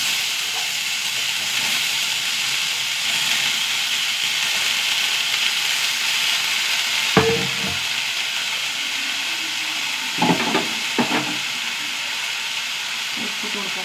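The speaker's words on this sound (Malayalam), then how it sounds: "പടവലങ്ങ ഇട്ട് കൊടുക്കുക." Snake gourd sizzles in a hot pan with curry leaves, onion and turmeric: a steady, fairly loud frying hiss throughout, with a few brief louder bursts of crackle.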